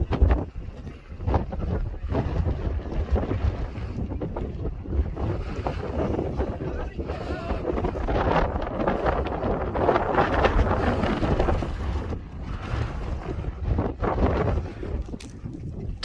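Steady wind on a White Mountains summit along the Appalachian Trail, near Mount Liberty and Little Haystack Mountain, heard as a continuous low rumbling buffet against the microphone with no break.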